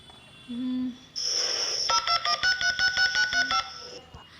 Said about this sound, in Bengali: পিজিতে একটা ফোন করি